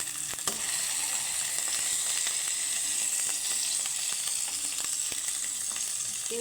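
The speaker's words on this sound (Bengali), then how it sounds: "দেখা সুন্দরভাবে ভাজা হয়ে গেছে কিন্তু কালার চলে আসছে একটা" Vegetables fry in a pan until browned, with a dense, even sizzle running throughout and faint ticking stir sounds.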